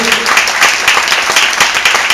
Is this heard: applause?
yes